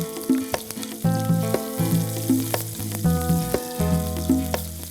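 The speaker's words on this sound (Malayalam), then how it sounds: "കടുക് പൊട്ടിയതിന് ശേഷം ഉള്ളിയിടാം" Small onions sauté in hot oil after mustard seeds have popped, part of a spicy Kerala fish curry: a steady close sizzle with rhythmic stirring scrapes and clinks repeating throughout, no voices.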